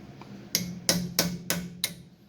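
Five sharp metallic taps, spaced roughly evenly and ringing briefly, struck on rear disk brake parts of a twin-turbo LS-swapped C30 truck, close by in a quiet workshop with no talking.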